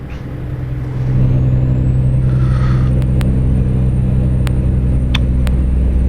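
A truck in American Truck Simulator, hauling JCB equipment, rumbles along with a steady low engine drone, a hiss of air near the start and a few faint clicks over the constant road noise.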